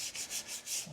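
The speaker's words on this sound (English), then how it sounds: "so we're just going to wipe this off" Cloth wiping a plastic Old Town kayak hull in steady back-and-forth rubbing strokes, about five close, soft swishes with no talking.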